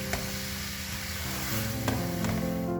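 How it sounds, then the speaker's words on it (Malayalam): Ripe banana frying in a pan with sesame and rice gives a soft, steady sizzle, with a couple of brief stirring scrapes over a low background hum. "എള്ളും ചേർത്ത് നന്നായിട്ട് വീണ്ടും ഇളക്കുക."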